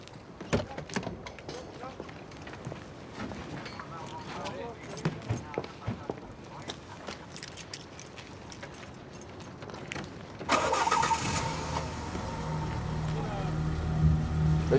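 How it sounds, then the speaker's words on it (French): Keys jangle and clatter for several seconds, then a supposedly broken-down car's engine abruptly catches and settles into a steady running drone, with people talking throughout. "Elle démarre plutôt bien pour une voiture en panne"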